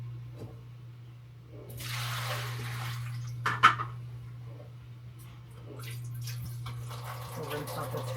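Water runs and splashes while the removable water tank of a Ninja Lux Cafe Pro coffee machine is rinsed out, a broad rushing wash over a steady low hum, with a brief clatter midway and softer running water toward the end.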